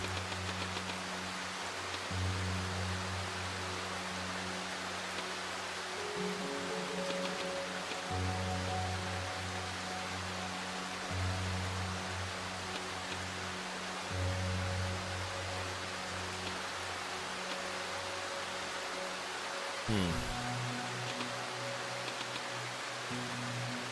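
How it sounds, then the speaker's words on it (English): Steady rain ambience in the survival horror video game Darkwood, a constant soft hiss of rainfall over low droning tones, with no talking. "The rain sounds so good."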